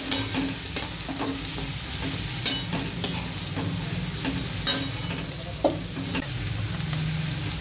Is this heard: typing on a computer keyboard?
no